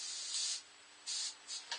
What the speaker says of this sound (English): Do a little test spray down here.